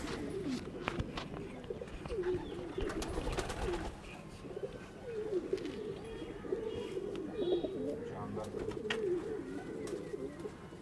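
Soft, repeated cooing from pigeons at a loft, low rolling calls recurring throughout at a fairly close distance, with faint chirps and light rustling in the background.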